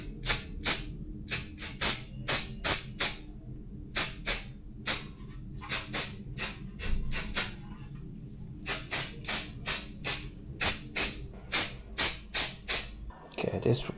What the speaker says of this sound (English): let's start with the spraying.